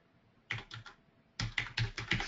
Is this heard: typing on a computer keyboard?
yes